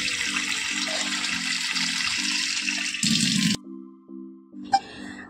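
Taro stolons are rinsed quickly in water, a steady close splashing and running-water wash that stops abruptly, leaving a few faint drips and clinks.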